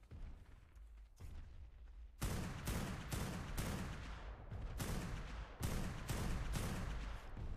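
Gunfire in the ARK video game as a magazine is emptied, with loud shots bursting in quick, rapid strings separated by short pauses.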